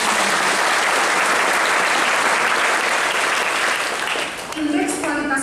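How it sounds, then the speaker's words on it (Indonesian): A large crowd applauds loudly and continuously, the dense clapping fading slightly near the end as a voice begins. "Kita berikan tepuk tangan."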